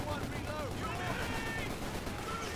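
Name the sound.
LMG machine gun fire in video game Company of Heroes 2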